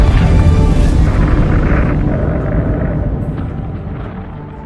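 A massive, deep explosion in the disaster film Geostorm rumbles and roars loudly, its low booming energy slowly fading away over several seconds.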